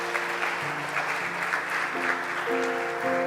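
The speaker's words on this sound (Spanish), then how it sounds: "le damos un fuerte aplauso." A church congregation gives a strong round of applause during a service, steady close clapping over a faint background tone that keeps going throughout without letting up.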